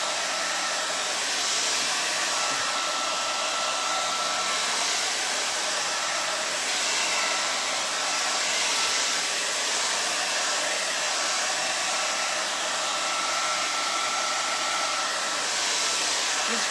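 A hair dryer blows steadily and loudly, drying paint on an abstract heart wreath, a continuous airy roar with no talking throughout.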